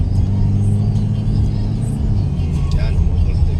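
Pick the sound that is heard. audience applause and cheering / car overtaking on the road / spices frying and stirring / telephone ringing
car overtaking on the road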